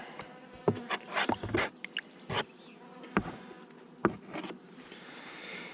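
Honeybees swarm around an open beehive as a queen cage is introduced, a steady close buzzing with sharper bursts as individual bees pass near, plus faint handling knocks and no talking.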